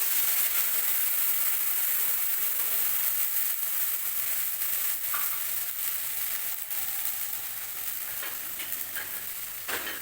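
A loud, steady sizzle of turmeric and water hitting a hot pan, hissing continuously with faint crackles throughout.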